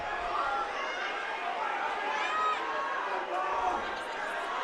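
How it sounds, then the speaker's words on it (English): A crowd roars steadily at a high school wrestling match between Mountain Vista and Chatfield, a broad continuous din of cheering and chatter that stays loud throughout, with a commentator talking over it. "You can hear the roar of the crowd for Wish Week"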